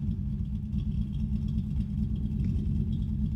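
A modified 3rd-gen Camaro Z28 muscle car sits idling with an aggressive cam, a loud, close, steady low rumble with a loping pulse and no voices.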